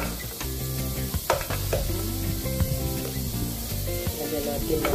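Ginger and garlic sizzle steadily in hot oil in a pan, a continuous close frying hiss with occasional stirring scrapes and clinks, the start of a tilapia dish.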